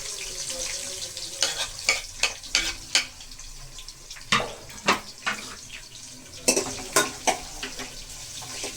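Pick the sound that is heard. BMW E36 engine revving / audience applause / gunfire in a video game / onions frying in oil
onions frying in oil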